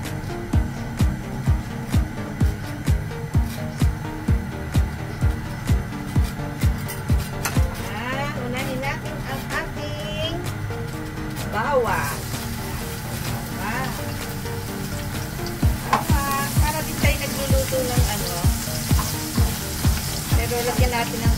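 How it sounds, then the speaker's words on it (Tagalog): Vegetables and onion sautéed in oil for instant fried noodles, a continuous sizzle under regular rhythmic knocking and clanking of a utensil against the pan. "pag-igisahan natin ang gulay"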